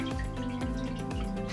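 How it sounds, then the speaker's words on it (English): Water dripping from a large kayak paddle shaft that has been treated with WD-40, three distinct close drips falling at a steady rhythm about half a second apart, each a clear plopping tone with no speech. "If anything, it seems to be dripping more"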